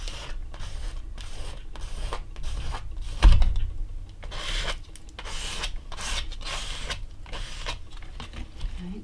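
A tool scraping into Shiva oil stick paint on an art journal page, a dry, close rubbing scratch in quick repeated strokes, faint and steady with a brief louder knock partway through, no talking.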